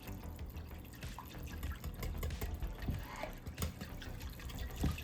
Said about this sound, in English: And about 1/3 cup of water. And we're just gonna whisk this all up.